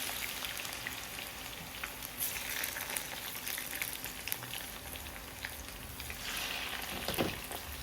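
Sweet potato (camote) frying in hot oil, a steady crackling sizzle like light rain, with occasional stirring clatter and brief louder bursts near the end.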